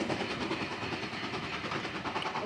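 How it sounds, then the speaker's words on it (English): A diesel train passes through Stogumber station on the West Somerset Railway during a diesel gala, giving a steady rumbling roll with faint rhythmic wheel clatter at moderate distance. "there's a train passing through Stogumber, a rare sight that only happens, I'm assuming, at the diesel gala"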